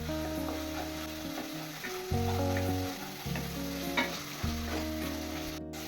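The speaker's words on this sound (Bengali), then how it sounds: "সব মশলা দিয়ে আমি এখানে 2 মিনিট কষিয়ে নিয়েছি।" Spices for palak paneer frying in a pan with turmeric, salt and sugar, sizzling steadily while a spoon stirs and scrapes through them, close and continuous.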